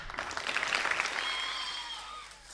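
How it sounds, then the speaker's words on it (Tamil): Scattered hand clapping from an audience at a Tamil-language talk event, a dense patter that swells briefly and then thins out, fairly distant, with a faint voice underneath. "உங்களுக்கு பிடிச்சிச்சுன்னா நீங்கள் கைத்தட்டுங்க சரியா"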